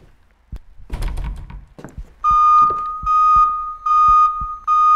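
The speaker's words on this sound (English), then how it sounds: "Is that a fire alarm?" A fire alarm rings in the horror video game Minds Eyes, a loud, steady electronic tone that pulses on and off in repeated bursts after a few dull thuds and knocks.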